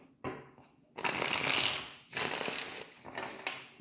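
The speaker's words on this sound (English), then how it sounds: "Let's get one shuffle." A deck of tarot cards being shuffled by hand, with three or four crisp riffling bursts of rapid flicking separated by short pauses, close and clear with no talking.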